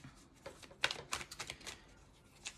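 Tarot cards shuffled by hand in a quiet room, giving a run of soft papery riffles and flicks with brief sharper snaps, close and fairly faint, no talking.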